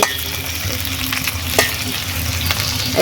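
Four tomatoes sizzle loudly in a pan over well-fried onion, ginger and garlic while a spatula cuts and stirs them, giving a close steady hiss with scraping strokes and a sharp knock midway.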